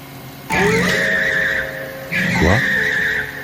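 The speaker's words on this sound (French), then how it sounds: "Les freins ne répondent plus. Non. Non. Pourquoi la voiture accélère?" A car skids and squeals its tyres in two long bursts, the second with a rising engine note, as it races out of control with failed brakes; loud and close, no talk over it.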